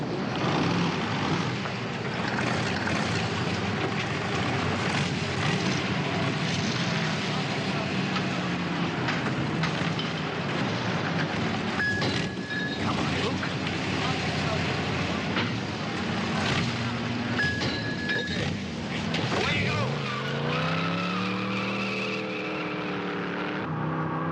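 A race car at a Grand Prix roars continuously for a long stretch at close range, its engine note rising and falling, with a late descending pitch sweep as it passes.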